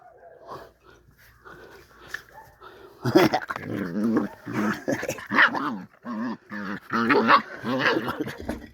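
A dog growls and grumbles in rough, rhythmic bursts, close up, with huffing breaths between them, starting quietly and growing louder.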